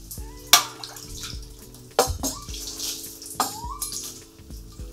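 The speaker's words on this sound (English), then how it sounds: "you could always just throw a little bit of water there and that'll certainly cool down" Water tossed onto the hot stove of a Finnish sauna, heard as a few sharp splashes with brief hisses at irregular intervals over a steady low hum.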